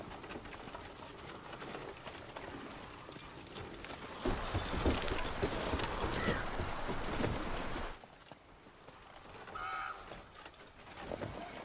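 Roach's hooves clip-clopping in The Witcher 3: Blood and Wine, a steady trot with cart noise that swells for a few seconds, then eases back under quieter ambience.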